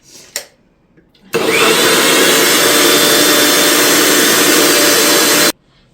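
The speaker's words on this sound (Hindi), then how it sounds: "मिक्सी से ही निकालती हूँ मैं मक्खन ना" A loud, steady whirring of a kitchen mixer grinder churning cream into butter, running continuously for several seconds before cutting off abruptly.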